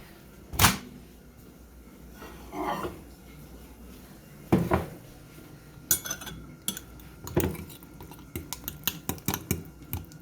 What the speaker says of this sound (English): I'm just stirring this with a fork.